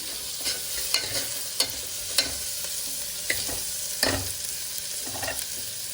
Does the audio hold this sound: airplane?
no